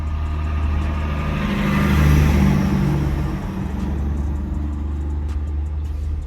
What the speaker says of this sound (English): I like those trucks, those Peterbilts, those long nose.